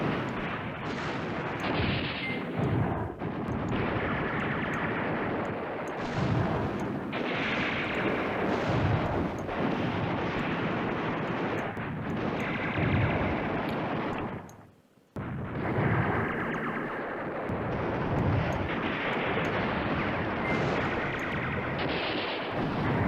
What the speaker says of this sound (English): This machine gun is doing well over there.